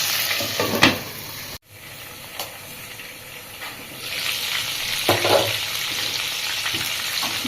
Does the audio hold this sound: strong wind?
no